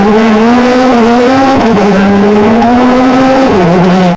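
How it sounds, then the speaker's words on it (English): AI-generated rally car drifting on a muddy forest track, a loud, continuous engine drone with a strained, tonal pitch that dips slightly in places, close and steady until it cuts off abruptly. "we've got a rally car absolutely flying through a muddy forest track, drifting around corners while trees are rushing past the camera"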